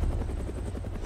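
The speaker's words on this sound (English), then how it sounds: "there's still the other helicopter circling" A helicopter in the video game Arma II DayZ flies steadily overhead, its low rotor thump and engine drone continuous and fairly distant with no talk over it.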